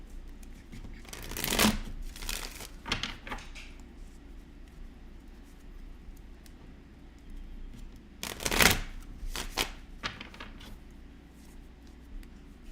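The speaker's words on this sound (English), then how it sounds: "Sorry if the sound of me shuffling is pretty loud." Tarot cards are shuffled in several loud, crisp riffling bursts, with quieter handling of the deck in between and no talking.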